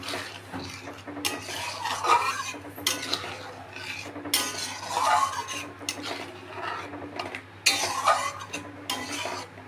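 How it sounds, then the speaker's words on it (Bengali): A spoon scrapes and stirs egg korma in a pan in several distinct bursts, with soft clinks against the metal between quieter pauses, fairly close and without talking. "দিয়ে এটাকে আবার কিছুক্ষণ নেড়ে নেব"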